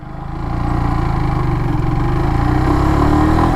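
A Kawasaki W175 motorcycle engine pulls in first gear, a loud close single-cylinder thrum rising steadily in pitch and intensity as it accelerates, with no voices.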